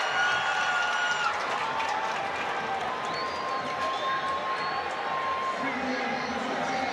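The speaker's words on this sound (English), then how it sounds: "And the crowd is excited. They're cheering for Senegal." Stadium crowd cheering at athletics relays in Botswana, a steady wide roar of voices and applause filling the whole stretch, with a commentator talking over it.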